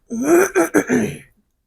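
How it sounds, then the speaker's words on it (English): A single drawn-out, voiced throat clearing, a rough guttural rumble in a few pulses, close and fairly loud. "Clear your throat."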